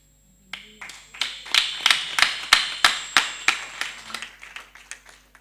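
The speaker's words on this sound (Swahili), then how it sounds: "Tumpigie makofi mazuri." A church congregation claps together during a Sunday service, a steady run of sharp, close hand claps that swells and then thins out, with no talking over it.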